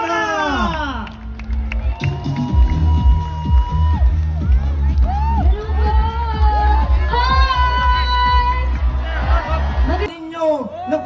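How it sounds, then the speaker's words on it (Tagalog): A large crowd at an evening stage event roars, cheers and whoops for an introduced performer, a loud dense swell of shouting voices with an amplified voice speaking over parts of it. "talakpakan na may kasamang sigawan"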